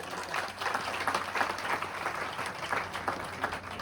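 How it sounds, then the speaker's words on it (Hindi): An audience claps for standing students, a brief burst of many hands applauding together, fairly soft and slightly distant, with no talk over it. "ताली बजाओ एक बार इनके लिए"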